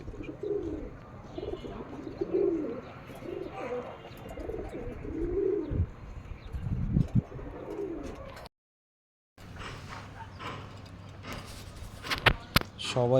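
A pigeon hen in a loft giving repeated low rolling coos near at hand, joined by a voice speaking, then a brief silent gap before more cooing and bird chatter.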